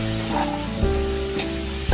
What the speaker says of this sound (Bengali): কড়াইয়ে ঘি আর সাদা তেল মিশিয়ে কালো সরষে এবং কারি পাতা ফোড়ন দিয়ে সবজিগুলো ভাজবেন।